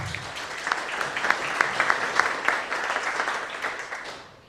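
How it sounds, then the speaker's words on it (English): An audience at a Western Nebraska water modeling session claps for a presenter, a modest, steady burst of applause lasting several seconds before tapering off. "Let's give him a round of applause"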